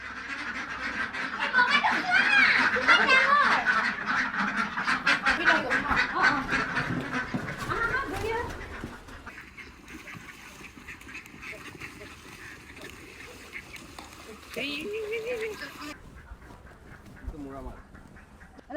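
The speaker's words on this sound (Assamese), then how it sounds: "আজি ৰাতিপুৱাটো এনেকৈ হাঁহৰ গঁৰালত কণী বুটলাৰ পৰা আৰম্ভ হ'ল।" Ducks in a pen quack in a loud, crowded chorus at first, then thin out to scattered, fainter calls, with a person talking nearby at times.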